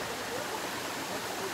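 Bonita Falls waterfall, a steady broadband rush of falling water heard from a distance, faint and continuous with no breaks.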